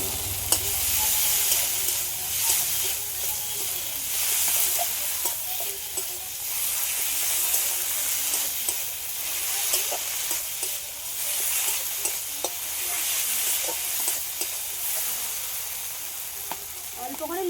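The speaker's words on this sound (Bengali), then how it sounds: "ভালো করে ভাজা হয়ে গেছে এবার আদা রসুন বাটাটা দিয়ে নেব" Ginger-garlic paste fries in a pan with a continuous loud sizzle, broken by repeated scraping clicks of stirring throughout.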